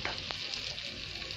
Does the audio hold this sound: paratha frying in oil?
yes